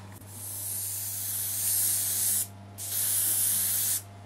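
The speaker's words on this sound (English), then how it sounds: "as I'm spraying it on" Skin-coloured paint hisses from a spray gun onto a life cast in two steady bursts, separated by a brief pause, close and fairly quiet over a low hum.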